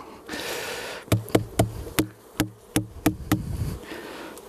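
Bees and hornets buzz around an opened beehive fitted with a queen excluder in mid-November, a steady close hum broken by about ten sharp, hollow knocks in quick irregular succession, with no talking.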